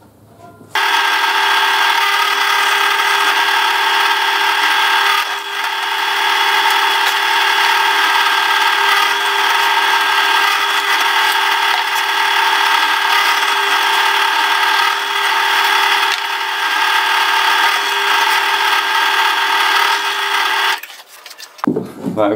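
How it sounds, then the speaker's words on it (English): A drill press bores into solid pine for dowel holes, a steady loud whirring grind that runs unbroken for about twenty seconds before cutting off. "now I'm going to put it to the drill press and drill out"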